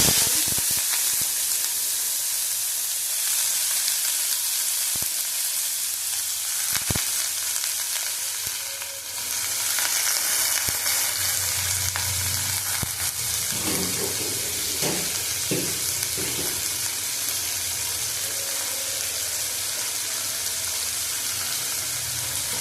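Bottle gourd peels fry in hot oil with black cumin, a continuous bright sizzle with occasional stirring scrapes and a brief dip midway before the hiss resumes at full strength.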